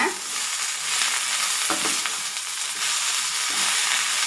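Mint leaves, coriander and curry leaves sauté in a hot pan for a mint chutney, giving a steady, close sizzle with occasional stirring scrapes and crackles, with no talking.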